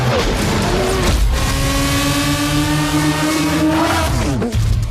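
Car driving in the Bollywood movie Villain, a steady loud engine drone with rising whine and some tyre squeal, close and continuous.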